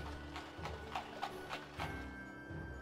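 A wooden horse in the video game Magicka clip-clops steadily, with about six evenly spaced hollow knocks over a low mechanical hum.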